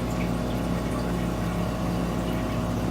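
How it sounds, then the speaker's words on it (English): An electric marine toilet on a boat pumps water into the bowl, a steady loud motor hum with rushing water, continuous and close. "To bring water into the bowl, you press it on the port side. That will bring water in."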